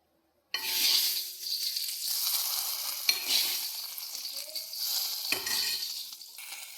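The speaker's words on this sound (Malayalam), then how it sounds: "കടുകൊക്കെ വറുത്ത് വെച്ചു ഇനി ഇതിനകത്തോട്ട് ഒഴിച്ചു കൊടുക്കാം" Mustard seeds tempered in hot oil poured into Angamaly-style mango curry, erupting into a loud, steady sizzle that starts abruptly and continues with a few sharp pops and clinks, no voices.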